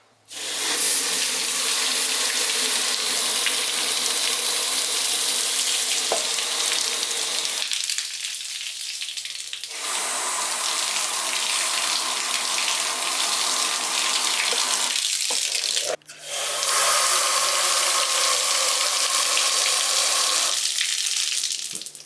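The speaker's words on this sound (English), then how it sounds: "The water's going all the way through to the front." Loud rushing water pours steadily through a 1970 Dodge Super Bee's frame rail, breaking off briefly twice before gushing again, hissing and splashing with no voices.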